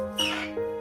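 A baby lutino cockatiel gives a short, raspy squawking call, close and fairly loud, in two brief bursts.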